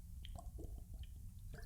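Gulping and squishy sips from a purple plastic water bottle, a handful of close, wet slurping and squeezing sounds spread unevenly over a low background hum.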